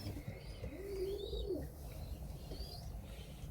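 Cooing from a young racing pigeon held close by, a soft low rolling coo lasting about a second, then faint chirps over a quiet room background.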